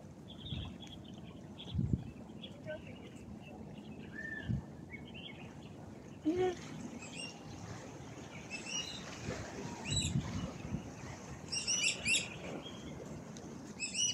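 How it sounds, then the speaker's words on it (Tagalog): Small birds chirp and tweet in scattered bursts at a ferry pier, fairly faint against outdoor ambience with water and occasional low thumps, with no talking. "Naririnig nyo ba yung huni ng mga ibon guys?"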